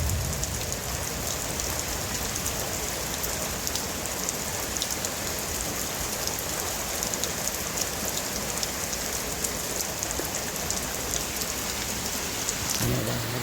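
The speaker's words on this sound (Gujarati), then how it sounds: "એક નંબર વરસાદ આવે છે ભાઈ" Heavy night rain pours down during a thunderstorm, a dense, steady hiss of drops drumming on surfaces, loud and continuous with no voices.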